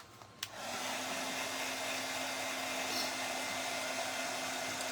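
A hair dryer switches on after a short click and blows loud and steady at close range, drying a thrift store makeover piece with no talk.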